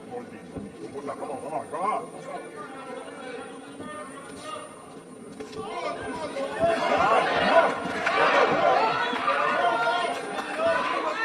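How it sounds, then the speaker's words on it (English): Boxing arena crowd at a bout between Eman Pacquiao and Arnaud Makita, a steady murmur of chatter that swells into louder cheering in the second half, with scattered shouts. "The fans are cheering him on."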